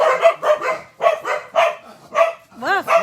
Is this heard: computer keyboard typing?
no